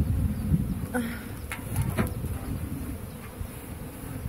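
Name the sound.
bees buzzing around a beehive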